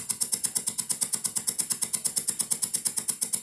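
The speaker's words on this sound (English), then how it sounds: "so that's what the engine sounds like" Engine sound from an Amiga A1200 or 386DX PC video game, a rapid, regular mechanical chugging of about six beats per second, steady and synthetic-sounding, alone without speech.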